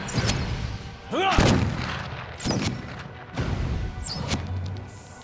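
Shotgun blasts in the fantasy role-playing game Pillars of Eternity, several heavy booming shots spaced through the scene with ringing, swooping magical effects in between.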